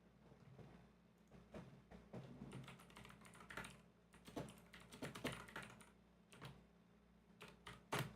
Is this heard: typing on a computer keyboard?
yes